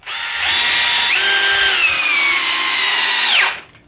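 A cordless drill driver sinks a screw in one continuous run. The motor whines loudly and close up, its pitch shifting as the screw seats, then it winds down and stops.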